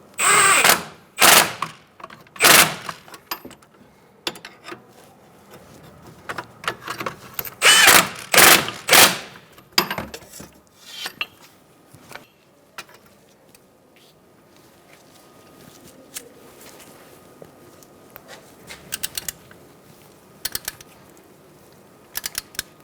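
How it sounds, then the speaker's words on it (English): A wrench tightening the front strut bolts on a 2002-2006 Toyota Camry during a strut and spring assembly replacement, giving bursts of sharp ratcheting clicks that fade into quieter scattered tool noises; no talk. "So you're going to use a wrench on the head side while you tighten this down."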